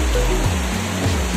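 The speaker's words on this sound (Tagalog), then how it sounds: "nandito na tayo sa Kilangin Falls" Kilangin Falls, a loud, continuous roar of falling water heard up close, a dense rushing wash with no pause and no talk.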